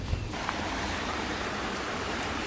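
Steady broadband rush of the main branch of the Eight Mile River flowing through a trail preserve, continuous and fairly loud with a brief wind bump near the start, no voices.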